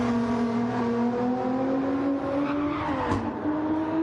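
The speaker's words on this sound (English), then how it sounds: "That car sounds like it's running full power right now" A Cup Series stock car in a NASCAR-style racing video game runs at full power, its loud, steady engine whine holding a high pitch and sliding gradually upward through the clip, with a brief dip near the end.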